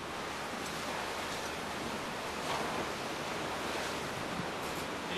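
Force-three storm waves on the sea at Foros in Crimea, driven by strong wind: a constant roar of surf and gusty rumble, loud and unbroken with faint surges.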